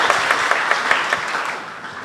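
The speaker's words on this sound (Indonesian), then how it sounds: "Beri tepuk tangan lagi untuk Tuhan Yesus" A church congregation applauds during a worship service, a dense and even wash of clapping with a few louder claps standing out, tapering slightly toward the end.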